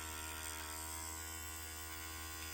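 The Urban Butterfly cordless makeup brush cleaner spins a brush dry, giving a steady, even electric motor hum that stays level and unbroken throughout.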